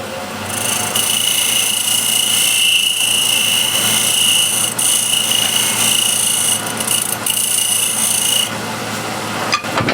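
A skew chisel cuts wood spinning on a lathe, a loud, steady shearing hiss with a constant motor hum, ongoing for several seconds and stopping near the end, no speech.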